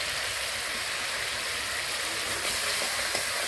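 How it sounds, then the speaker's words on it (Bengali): Spice paste for a tengra fish curry sautés in a pan with a dense, continuous hiss and sizzle, close and steady for the whole stretch, with no voices. "এখানে মশলাটা একদম সুন্দরভাবে কষিয়ে আসছে"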